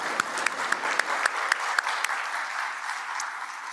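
Applause for the National Alliance for Caregiving at a caregiving summit's opening remarks, a fading wash of clapping with a few sharper claps standing out near the start.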